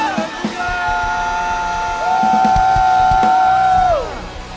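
A church congregation at a Sunday worship service shouts together in a loud, sustained crowd cry that swells and then fades, with raised voices blending over a musical drone.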